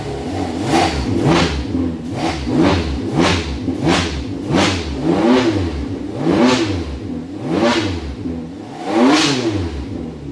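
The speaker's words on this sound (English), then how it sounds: "we're going to rev it up a little bit, because you don't want to rev these on cold" A warmed-up Ferrari V12 is blipped about ten times in a row, each sharp, loud rev rising and falling quickly in a steady rhythm, close up with no talking.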